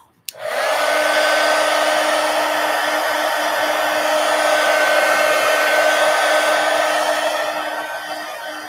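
A hair dryer blows steadily on a mixed media artwork after a click switches it on, a loud continuous whooshing hum with a faint tonal whine that holds for several seconds and eases slightly at the end.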